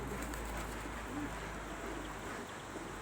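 Carrier pigeons coo softly on a small roof in a thawing winter yard, faint and low under a steady outdoor background hum.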